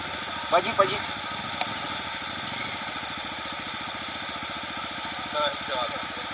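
A motorcycle engine idles quietly on a trail near waterfalls in São Lourenço, a fast even low putter with brief knocks and people talking faintly.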